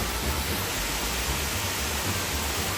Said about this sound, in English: So here we have a waterfall inside the cave.